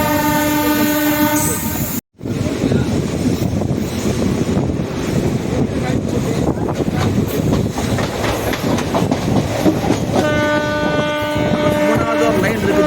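A train runs past Ponmalai railway station near Trichy with loud, steady rumble and rhythmic wheel clatter, close by, while its horn blares at the start and again near the end.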